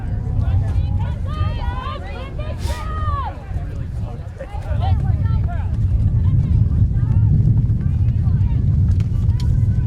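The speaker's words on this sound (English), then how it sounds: "As that wind continues to pick up this afternoon, making things difficult out there." Strong wind buffeting the microphone at an outdoor women's rugby match, a heavy low rumble throughout with crowd noise and commentators talking over it.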